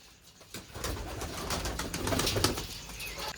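Pigeons kept in a home loft coo softly at close range, a low murmuring call repeating over faint background rustle.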